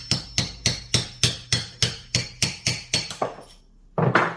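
Light hammer taps seating a belt pulley bearing on a Ducati, about a dozen evenly spaced metallic knocks, close and crisp, pausing briefly before a final cluster of taps.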